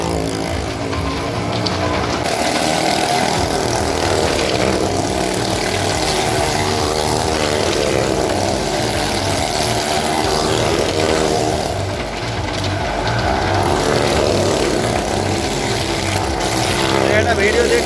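A stunt motorcycle engine drones continuously in a circus show at a village fair, riding over a steady crowd and fairground din while people talk loudly over it.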